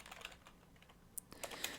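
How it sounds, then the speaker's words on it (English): Notes are typed on a computer keyboard in quick, irregular bursts of light clicking keystrokes, quiet and close, with no talk. "I'm typing the notes as we go so you can see this later."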